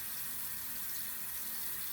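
Tap water runs over hands during handwashing, a continuous close splashing hiss that stays even and unbroken throughout.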